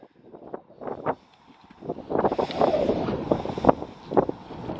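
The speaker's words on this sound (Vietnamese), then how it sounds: "Gió quá." Outdoor wind buffeting a microphone in gusty bursts, rough low rumbling thuds that swell and fade irregularly, with faint voices partly masked underneath.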